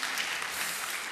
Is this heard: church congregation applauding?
yes